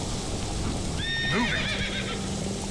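In The Witcher 3, a horse gives a clear, rising-and-falling whinny over the steady clatter of its hooves, with light rain-like noise in the background.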